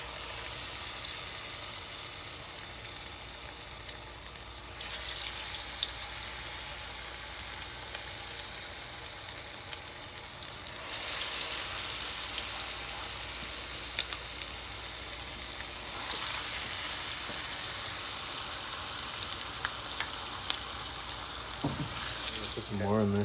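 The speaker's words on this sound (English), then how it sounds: "we're going to throw these nuggets here in the grease. Let them fry up. Some wet batter pike." Wet-battered northern pike nuggets fry in hot grease, giving a steady, loud sizzle that lasts throughout with bursts of stronger crackle, close by and unbroken by speech.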